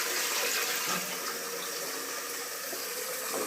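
A toilet flushes while the sewer drain is backed up into the bathtub, giving a loud, continuous rush of running water that hisses steadily throughout with no speech.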